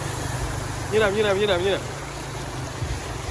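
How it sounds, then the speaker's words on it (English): A motorbike pushes through deep floodwater in The Gambia, its engine rising and wavering for about a second over a steady watery rumble outdoors. "The motorbike is also going."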